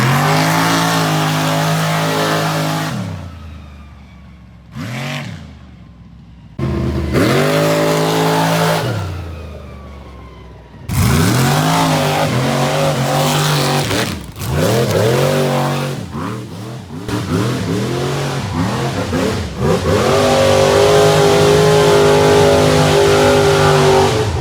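A rock bouncer off-road buggy with a Powerglide transmission and high-stall converter revs hard and loud, its engine repeatedly climbing to a screaming pitch and dropping off in sharp bursts, with brief pauses between pulls.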